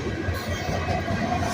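A long Norfolk Southern freight train rolls past at night, its steady rumble and rattle of cars continuous and fairly close, with no talking.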